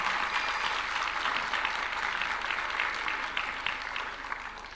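Sustained applause from a crowd at State House, Nairobi, as the president receives a team jersey from Migori Youth FC, steady and loud throughout without speech.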